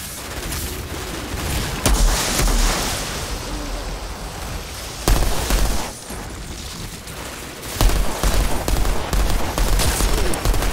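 Sniper gunfire in the Outriders video game: three sharp, loud shots spaced a few seconds apart, each cutting through a dense, steady wash of roaring combat noise.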